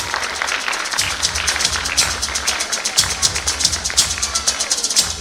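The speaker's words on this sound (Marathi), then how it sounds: "जोरदार टाळ्या होऊ द्यात." Applause at a school annual day prize-giving, many hands clapping steadily throughout as a dense crowd patter, with a low hum beneath and no speech.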